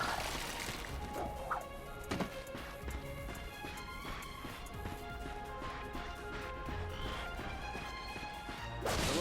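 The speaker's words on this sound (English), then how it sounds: "Look at him smashing crates." Ratchet breaking crates in the Ratchet & Clank video game: a string of sharp wooden smashes and cracks spread through the span, with clattering debris, game effects and background music between hits.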